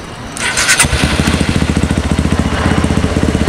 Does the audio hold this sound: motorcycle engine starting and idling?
yes